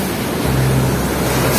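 Waves wash onto a clean beach at Tanjung Jati, a loud, continuous broadband rush with a low rumbling undertone and no voices.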